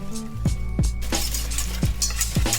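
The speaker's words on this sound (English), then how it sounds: "Keep stirring." A spoon stirring banana bread batter in a bowl after buttermilk and neutral oil are added: close, repeated scraping knocks against the bowl, roughly four or five strokes in quick succession.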